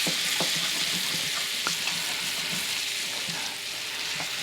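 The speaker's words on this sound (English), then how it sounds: "we just make sure we scrape up all the good bits on the bottom of the pan as our butter melts" A full stick of butter melting and sizzling in a pan over medium heat while browned bits are scraped from the bottom for shrimp Alfredo, a loud continuous crackling hiss with soft scraping taps underneath.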